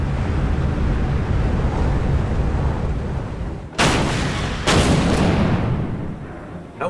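Anti-aircraft gunfire aimed at Condor aircraft in the WW2 strategy game Order of Battle, Kriegsmarine Arctic convoy setting: two sharp, loud bursts of firing break through a steady windy, sea-like rumble.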